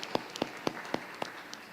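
A church congregation at a Saturday evening service clapping in unison: about six sharp, evenly spaced claps in a steady rhythm, fairly faint and with no talk over them.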